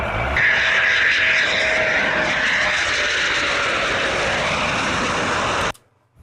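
German Eurofighter Typhoon jets roar overhead as a loud, continuous wash of engine noise that holds steady for several seconds, then cuts off abruptly.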